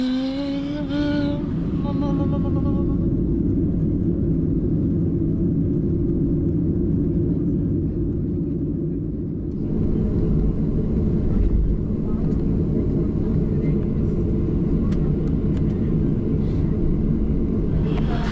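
Steady, loud airplane cabin rumble during a flight to Italy, a deep continuous drone that persists throughout, with a voice heard briefly at the start.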